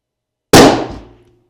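A single sharp, loud report from a Tikka T3x ACE Game rifle, with a short decaying echo after it and silence before.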